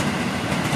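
A train rumbles past near Kalibata station in Jakarta, a steady close clatter of wheels on rails filling the short moment with no talking.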